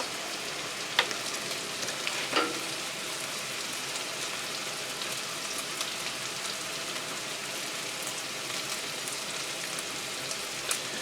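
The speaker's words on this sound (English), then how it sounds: "Gonna give this a stir." Minced-meat larb frying in a pan, a steady dense sizzle like light rain filling the whole stretch, with a couple of faint clinks of stirring near the start and end.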